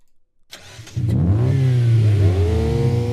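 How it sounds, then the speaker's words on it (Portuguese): A synthesized car engine with a turbo whistle, made as game sound design, starts with a sharp burst and then revs up, its rising tones sweeping upward and holding loud with a hissy whine on top. "a gente tem o motor do barulho do motor, e a gente tem esse chiado, que é o turbo sendo sintetizado"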